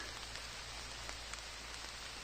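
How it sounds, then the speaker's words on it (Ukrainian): Steady rain pattering on leaves and ground along a Carpathian forest trail during mushroom hunting, a soft continuous hiss with occasional distinct drops, no voices. "Дощик знову почав падати."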